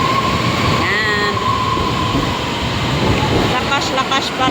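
A train rumbles loudly past a platform at Titiwangsa station as it departs in heavy rain, with a brief tonal chime and people talking nearby.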